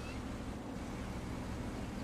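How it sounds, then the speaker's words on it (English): Rowboat rocking on water in the Farming Simulator 17 video game, a steady, dense wash of lapping water and wind-like rushing noise with no distinct splashes. "the rowboat is now fully floating in the water"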